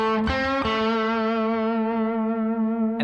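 Distorted electric guitar plays a blues riff, a couple of quick picked notes, then one long sustained note held with vibrato and ringing out for several seconds, loud and alone.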